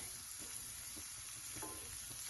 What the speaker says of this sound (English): Get the oil evenly spread on the Spam. And I'm going to let it rest so it can get crispy on one side.